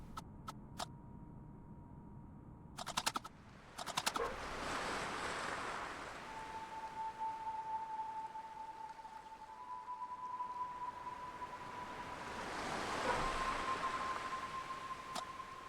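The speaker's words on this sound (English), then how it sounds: "The waves have a unique quality to it." Ocean waves in the video game Without A Dawn wash in a steady, broad surf wash, swelling and easing over the span alongside a few sharp in-game clicks and a thin sustained tone; no one speaks.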